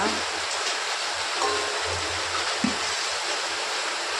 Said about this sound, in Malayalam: പുറത്തൊക്കെ നോക്കിയാൽ നല്ല മഴയാണ് കേട്ടോ